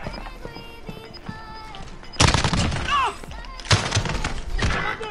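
Video-game gunfire from an incendiary shotgun sounds in loud, close bursts of blasts and crackle, mixed with game effects and players talking.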